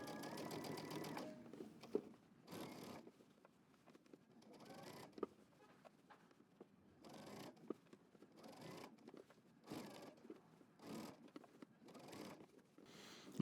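A sewing machine stitches a denim jacket seam in short whirring bursts, each a few inches long, separated by quiet pauses as the fabric is repositioned; fairly faint and close.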